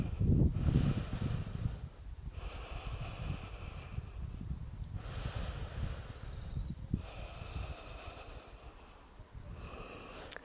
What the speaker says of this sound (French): Encore 3 grandes respirations